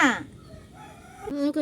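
Domestic chickens at a home cluck in short, close bursts, one call at the start and another sharp pair near the end, with quieter calls in between.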